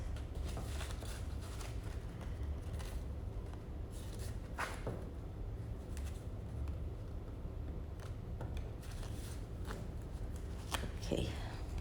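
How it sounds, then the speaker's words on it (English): A deck of tarot-style reading cards is shuffled by hand, producing soft repeated riffling and flicking sounds over a low, steady background hum. "let's just shuffle the cards a little"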